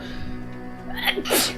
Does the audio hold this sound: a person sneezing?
yes